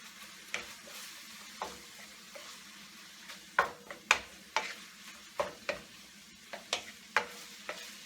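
Minced chicken and green peas sizzle steadily in a pan, with repeated sharp scraping and tossing strokes at an irregular rhythm, close and fairly quiet, with no talk.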